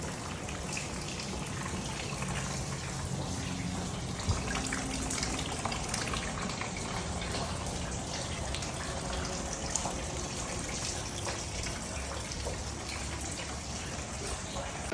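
Water pours down indoors from a leak near light fixtures, a steady, loud, hissing gush with spattering drips that continues without a break for the whole stretch.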